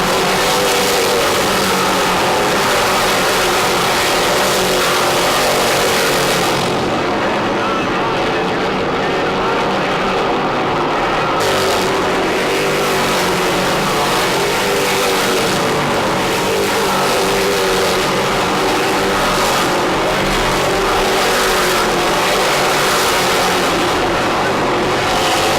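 Race cars battling for position on a track, a loud continuous roar of engines rising and falling as they pass, with a commentator talking over the noise.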